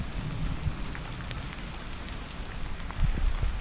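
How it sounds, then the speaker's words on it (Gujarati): Heavy unseasonal rain pours down steadily at night in the Gir area, a dense close hiss of drops on surfaces with no voices. "અને વરસાદે અત્યારે વધ્યો છે"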